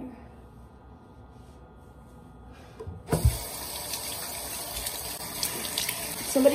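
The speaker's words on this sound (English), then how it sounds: "somebody come wash their face with me" Water gushes from a bathroom faucet into a sink for face washing, starting abruptly after a quiet stretch and then running steadily at close range, with faint splashing.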